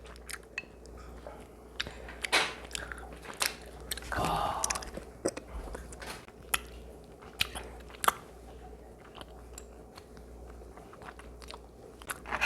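A dog crunches and chews a snack close up, with irregular bites and crunches throughout and louder bursts of chewing, over a quiet background.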